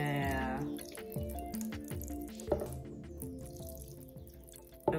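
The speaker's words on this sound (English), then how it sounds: "the first thing we gotta do is pour this glass of water" Water poured from a glass into a shark dig kit, dribbling and dripping in a run of small splashes for a few seconds, close and fairly quiet.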